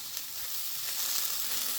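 White blewit mushrooms sizzle in a frying pan over medium heat, a close steady hiss of frying with faint soft movement as they are turned with a fork.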